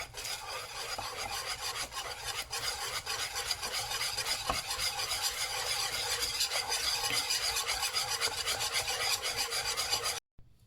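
Butter is beaten into pastry cream for a galette des rois off the heat, making continuous close, rhythmic rasping and scraping against the bowl that stops abruptly at the end.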